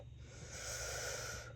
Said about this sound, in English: So let me take a deep breath.